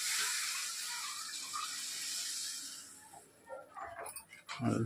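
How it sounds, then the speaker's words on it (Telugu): Lentil cooking water pours steadily into a sambar pot, a close rushing gush that tapers off, followed by faint clinks and brief movement sounds. "ఇప్పుడే పోసేసుకోవాలి పప్పు నీళ్ళు"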